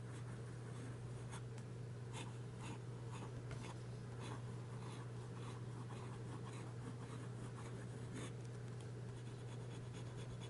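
A fountain pen scratches steadily across paper, with faint continuous nib strokes under a constant low hum and background hiss. The writing is close but quiet, and no one speaks.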